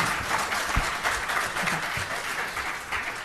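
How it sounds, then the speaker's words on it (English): Loud, dense audience applause filling a hall during a Republican congressional primary debate, continuous and even from start to finish with a faint low thump or two beneath it. "That gets applause"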